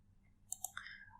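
A computer mouse clicks on a Go button, with two or three crisp, quiet clicks close together in an otherwise near-silent room.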